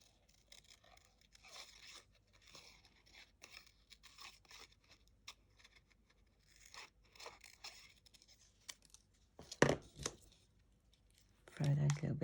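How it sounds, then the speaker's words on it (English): Scissors snip around a stamped paper butterfly in a series of quiet, closely spaced cuts with light paper rustle, followed by a sharper crunch and louder handling near the end. "It doesn't take too long to cut around the butterfly."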